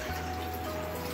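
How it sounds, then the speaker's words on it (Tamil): Water runs steadily into a metal idli steamer pot, a continuous close splashing fill with a faint hum underneath. "இப்போ நான் இட்லி பாத்திரத்தில் தண்ணி விட்டு"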